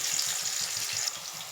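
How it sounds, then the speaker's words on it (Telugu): Vegetable pieces for a veg curry sizzle in hot oil in a pan, a steady close hiss with a gentle pulsing crackle throughout. "రెండో వైపు కూడా ఇలా మనం ఫ్రై చేసేసుకోవాలి."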